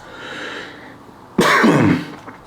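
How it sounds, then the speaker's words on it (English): One sharp, loud cough bursts out close by after a stretch of quiet room tone, trailing off into a rough throat-clearing rasp. "sorry for the cough"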